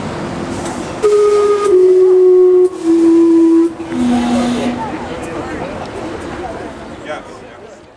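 The steam clock in Gastown, Vancouver, sounds its steam whistle as a few loud, sustained tonal blasts that step between pitches over a couple of seconds, set against street noise with people talking nearby.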